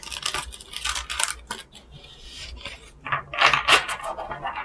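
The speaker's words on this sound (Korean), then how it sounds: "여러분께 필요한 타로 카드 셔플 한번 하고" Tarot cards being shuffled by hand, a run of quick papery riffles and soft slaps that come in bursts, close and fairly loud with no talking.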